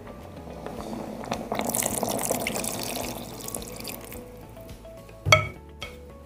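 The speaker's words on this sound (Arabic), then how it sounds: "بعد كده هننزل باللحمة والشوربة." Meat and broth go into a pot for Iraqi okra stew, with liquid pouring and splashing, light clinks of utensils against the pot and a sharp knock near the end.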